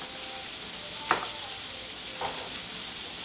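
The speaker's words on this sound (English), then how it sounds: "all we're doing is sauteing some onions" Onions sautéing in a pan for loco moco gravy give a steady, close sizzle, with a couple of brief stirring scrapes breaking through. No one speaks.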